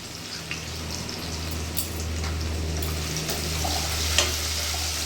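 Taro stolons with turmeric and salt sizzle steadily in a pan over a medium flame, with faint clinks and scrapes of stirring rising above the constant fry and no voices.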